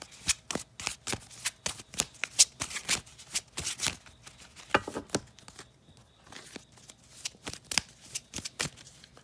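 Tarot cards are shuffled by hand in quick, crisp riffling bursts, close and repeated in uneven rhythm, with a brief pause before the shuffling resumes.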